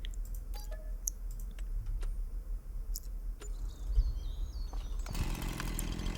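A Husqvarna chainsaw in Farming Simulator 25 roars up loudly and steadily near the end, after a stretch of clicks and a low background hum.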